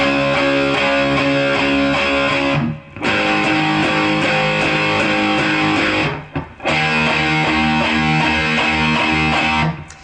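Distorted electric guitar power chords chugging through a riff, loud and dense, with two short breaks between phrases.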